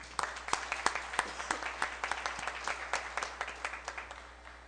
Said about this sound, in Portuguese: peço a todos uma saudação ao Pavilhão Nacional com a salva de palmas